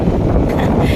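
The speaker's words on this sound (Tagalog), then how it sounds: "Sobrang hangin." Strong wind buffets the microphone in a steady low roar, with no voices.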